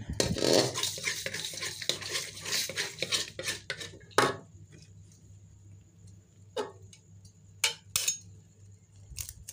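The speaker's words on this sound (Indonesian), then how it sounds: "kita langsung saja masukkan telurnya" Eggs going into a cooking pot for an egg vegetable dish, with a run of clinking and scraping against the pot followed by sparse sharp metallic taps, close by.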